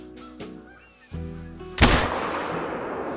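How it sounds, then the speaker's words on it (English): A rifle shot fired at a deer in the hunting game The Hunter: Call of the Wild, a single loud sharp crack with a long rolling tail, following quieter game ambience and faint bird calls. "This is a perfect broadside shot here."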